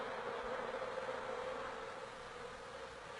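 Honeybees buzzing in a steady, continuous drone that holds at an even loudness throughout, with no voices present.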